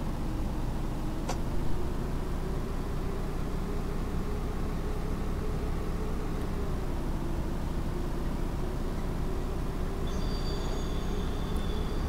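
A bus pulls away and drives on in the Omsi 2 bus simulator, on the Bremen-Nord Modern 2017 map along line 677. A steady engine and road rumble runs throughout, with a brief click early on and faint high tones near the end.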